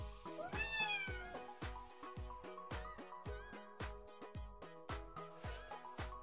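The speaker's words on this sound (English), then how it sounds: "Stretch, little cat." A domestic cat meows repeatedly in a steady rhythm of about a dozen short, clear, close calls, fairly loud and with no talk over them.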